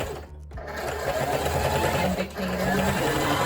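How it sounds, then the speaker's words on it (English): A sewing machine runs a steady, continuous stitch down the seam of a T-shirt dress at stitch length 3, close and loud, with a brief dip near the start and a faint voice underneath. "And you just sew it all the way down,"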